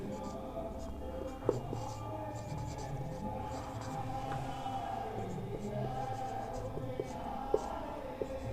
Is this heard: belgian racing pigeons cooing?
no